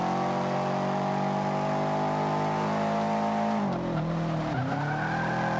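A race car in the Forza 5 video game revs steadily with cold tires, a loud sustained engine drone that dips and rises as the gear or throttle changes, with no talk over it.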